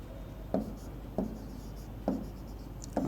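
Marker or chalk taps and strokes on a board during a chemistry lesson, four short distinct writing sounds spaced about half a second to a second apart, faint against quiet room noise.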